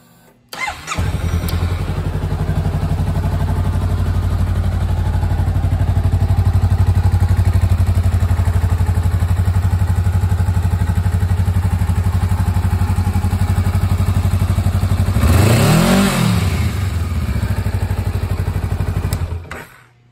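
A 2017 Honda Rebel 500 motorcycle with low miles runs loud and steady at idle for about twenty seconds, with one brief throttle blip and rev near the end before settling back down.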